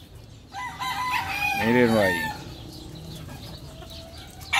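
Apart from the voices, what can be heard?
rooster crowing and clucking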